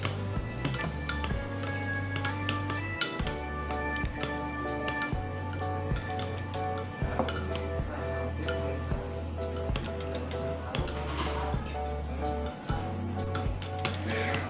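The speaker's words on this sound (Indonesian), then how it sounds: "lalu aku mau aduk sampai rata karena tadi kan di bawahnya ada perasan jeruk lemon dan juga madu" A spoon stirs ginger drink with lemon juice and honey in a glass, bright clinking against the glass in quick repeated rounds, close and clear throughout.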